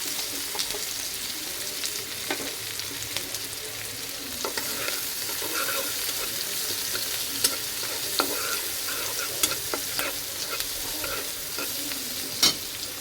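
Chopped onions and spice mix frying in oil and stirred for a pointed gourd (patal) curry, a steady close sizzle broken by occasional scraping and clinking of the spoon against the pan.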